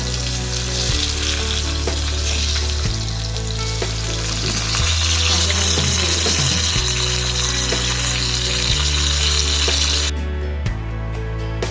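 Pomfret fish frying in oil over a medium flame, a continuous loud sizzle with occasional stirring and shifting sounds in the pan, no one speaking.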